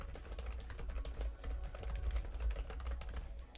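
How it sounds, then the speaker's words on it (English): Typing on a computer keyboard, picked up by a condenser microphone: a faint, steady patter of soft key taps over low room rumble and background noise. "So if you're typing on a keyboard, I'll give you an example, you will most likely hear it."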